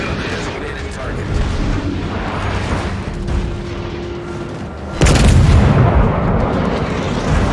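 Warship guns firing at an enemy ship in a naval video game battle, a steady rumbling barrage with a sharp loud blast near the end, under radio-style voice commands.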